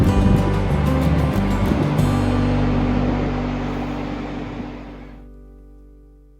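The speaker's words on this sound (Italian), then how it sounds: "dormire in camper accompagnati dal suono delle onde." Ocean waves on Lanzarote in the Canary Islands roll in with a broad, hissing rush that slowly fades away, with a low rumble underneath and no voices.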